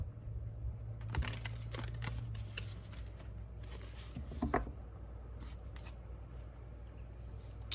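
Soft, quiet riffling and flicking of tarot cards being shuffled in brief bursts over a low background hum, with small taps and papery rustles.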